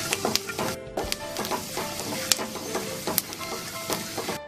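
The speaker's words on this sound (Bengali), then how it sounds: "যার জন্য বাদামটা খুব কেয়ারফুলি ভাজতে হবে।" Peanuts fry in oil in a pan for a flattened rice pulao, giving a steady close sizzle with small crackles and pops throughout and no talking.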